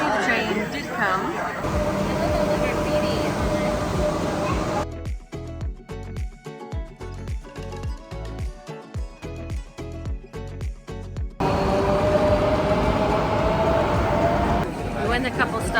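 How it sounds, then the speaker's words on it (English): An underground metro train pulls into a platform in Valencia with a broadband rumble and rhythmic clatter, while crowd chatter fills the station before and after. "Finally, the train did come."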